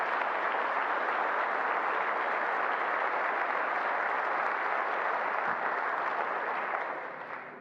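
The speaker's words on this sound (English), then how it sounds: "So give them a round of applause." A steady wash of audience applause fills a chamber of commerce luncheon room, dense, even clapping that holds at a moderate level for several seconds before fading out at the close.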